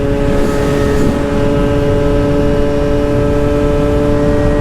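A two-stroke scooter runs flat out on a straight downhill at around 50 mph, its engine holding a loud, steady, high-pitched drone with strong harmonics and wind rush throughout, without a break.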